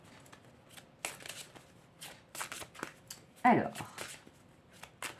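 Oracle cards shuffle close by in quick papery riffles and slides, with soft handling taps, while a person speaks quietly between the bursts.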